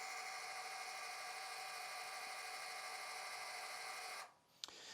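A small electric valve actuator motor whines steadily and close while driving a valve closed, then stops abruptly near the end, followed by a faint click.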